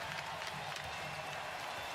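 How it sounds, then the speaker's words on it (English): A large arena crowd applauds and cheers in a standing ovation at an NBA Finals game between the Boston Celtics and Dallas Mavericks, a dense, continuous roar of clapping heard as if from a broadcast. "a much-deserved standing ovation from this crowd"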